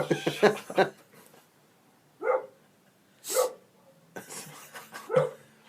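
A dog barks in separate sharp bursts, several loud barks spread across a few seconds, following a stretch of nearby conversation at the start.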